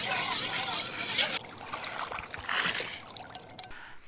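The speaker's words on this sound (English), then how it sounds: "I'm just doing my dishes." Water sloshes and trickles as dishes are rinsed in a river in Scotland while wild camping, with splashing first, then softer dribbling and clinks.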